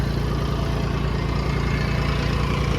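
A Swaraj 722 XT tractor engine runs steadily at about 1200 RPM, making a continuous, even diesel drone close by with no breaks and no talk.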